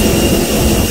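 A budget airliner's jet engine roars loudly and steadily up close at a Thailand airport, with a dense, unbroken whine and rush of air.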